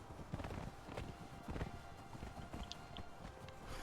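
Horse hooves in the video game Conan Exiles clip-clop steadily at a walking pace, fairly close, over a constant background hum with a few brief higher chimes.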